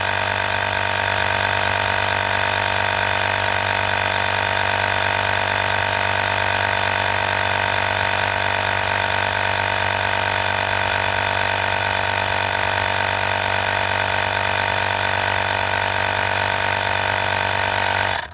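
An AVAPOW dual power tire inflator pumps air into a car tire with a loud, steady motorized buzz and hum that runs unbroken until cutting off at the very end.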